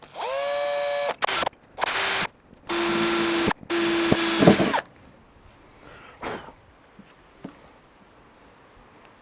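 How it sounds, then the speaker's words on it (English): A power drill with a 3mm bit bores a pilot hole through the lid of an Engel car fridge. The motor whines loudly in several short bursts with pauses between them, then there is quiet handling and clicks. "I'll grab my 3mm drill bit and we're just going to drill through slightly for a pilot hole"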